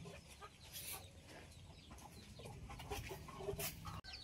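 On a farm, a hen with her chicks gives soft, irregular clucks and small peeps, fairly faint, with light background rustle.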